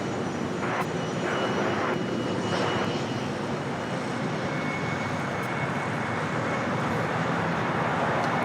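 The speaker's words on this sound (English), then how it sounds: "Eva Air heading back to Taipei, the 777-300ER. About to make that turn onto Bravo." An EVA Air Boeing 777-300ER taxiing at LAX and turning onto a taxiway, a steady, fairly close jet engine roar and whine holding evenly throughout.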